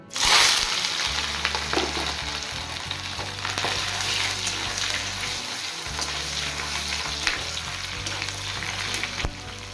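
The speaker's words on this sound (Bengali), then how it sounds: "তেল গরম হয়ে গেছে আমি প্রথমে মাছের ডিমগুলো ভেজে নেব" Rohu fish roe fries in hot oil with a loud, dense, continuous sizzle and spatter from start to finish, with a low steady hum running beneath it.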